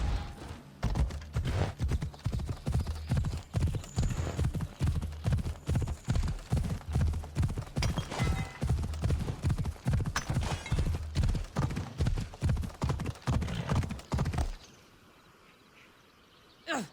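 Hooves clip-clop in a steady rapid gallop for about fifteen seconds, a horse ridden through Assassin's Creed Odyssey, loud and close with a brief whinny among the beats, then the pounding stops dead into near silence.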